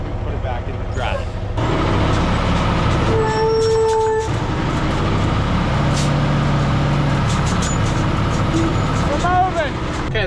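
A semi truck with diff lock and off-road mode engaged revs hard while stuck in farm mud, a loud, sustained engine roar with voices talking over it.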